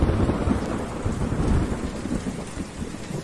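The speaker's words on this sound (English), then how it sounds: "some black clouds all around the sky with so much thundering. Also, it started to rain." Thunderstorm with rain: a continuous wash of falling rain with deep rolling thunder rumbling underneath, steady and fairly close, with no voices.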